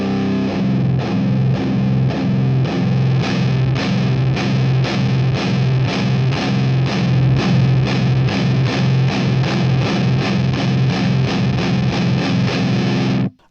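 Electric guitar played through a Crate XLP GX130C rackmount preamp with heavy distortion, a steady chugging rhythm of repeated palm-muted chords played loud and close, continuous for about thirteen seconds before stopping abruptly.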